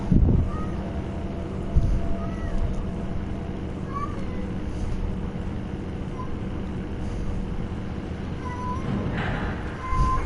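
Cats yowling during a Resident Evil 1 remake session, several drawn-out wavering cries rising and falling over a steady rumble of background noise. A few of the cries come out sharper and louder than the others.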